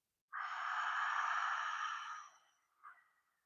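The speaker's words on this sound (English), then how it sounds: "as you breathe out, let out a ha sound" A long, smooth breath exhaled with an audible "ha" during yoga practice, a single close breathy whoosh lasting about two seconds that tapers off, followed by a short soft breath.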